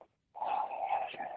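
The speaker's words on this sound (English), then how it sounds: "if you can hear my dog in the background said he's going to help me out tonight." A dog vocalizes in the background for about a second, a steady whining or growling sound rather than distinct barks, heard alone after a brief silence.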